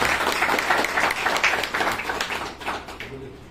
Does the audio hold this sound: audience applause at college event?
yes